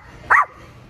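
A person imitates a dog, giving a single short, sharp bark-like yelp close to the microphone, with quiet surroundings before and after.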